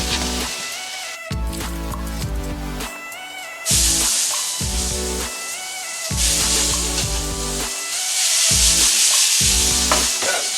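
Loud, continuous sizzling of peppers and onions frying in a hot pan for fajitas, with the crackle rising and falling as they are stirred.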